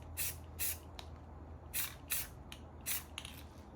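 Short hissing bursts of spray paint, several quick sprays in irregular succession, close and fairly quiet against a low background hum.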